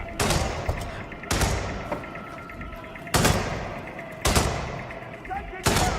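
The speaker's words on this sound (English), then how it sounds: "Go for a headshot." Gunfire in the HITMAN: World of Assassination video game, with five sharp, loud shots spaced about a second apart, each trailing off into a ringing tail over steady background noise.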